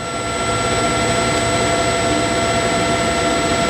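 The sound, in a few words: TRAK CNC flat bed lathe spindle running at 1,000 RPM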